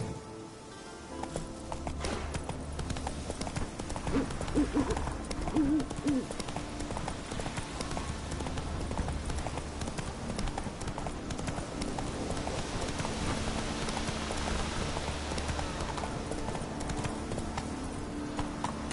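The horse Roach trots along in The Witcher 3 with a steady clip-clop of hooves, fairly faint under a busy game soundscape. A voice briefly calls out in the middle.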